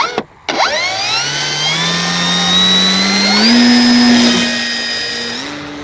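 Avios Kobuz RC jet plane launched by hand into the wind and flying off, its electric ducted-fan whine rising steadily in pitch and staying loud and close throughout, alone without talk.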